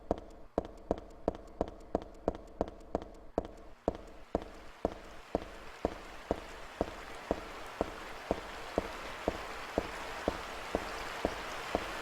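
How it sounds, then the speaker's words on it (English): Water drips steadily like rain in a dank underpass in the Silent Hill 3 video game, a sharp regular patter about twice a second over a hissing background that slowly grows louder, with no voices. "Just the soft pitter-patter of rancid water raining down upon us."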